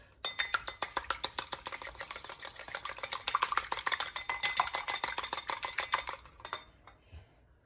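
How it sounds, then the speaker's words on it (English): An egg being beaten for an egg wash, a fast run of light metallic clicks as a fork strikes the side of a bowl, rhythmic and close for about six seconds before stopping. "We're going to beat an egg and make an egg wash"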